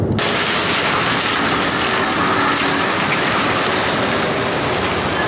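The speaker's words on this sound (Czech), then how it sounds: "A teďko po cestě prší" Steady rain heard from inside a car driving along a road on a trip to Milan, a dense even hiss of drops and road noise that stays loud and unbroken throughout.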